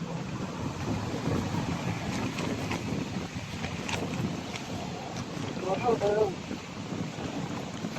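A strong wind blows steadily ahead of coming rain beside water where fish are being caught, a dense continuous rushing roar, with brief voices partway through.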